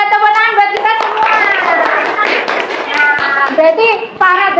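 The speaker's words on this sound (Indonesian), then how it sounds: "Kalian hebat, tepuk tangan buat kita semua" Children in a fourth-grade classroom clap their hands in loud, close bursts of rhythmic claps, mixed with children's voices chanting and talking over them.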